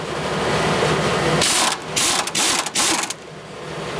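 A compact, not very powerful impact wrench hammers on 14 mm six-point bolts of a Mercedes SL55 AMG R230 rear subframe, a few seconds of loud rattling bursts with brief stutters, close by and without talk.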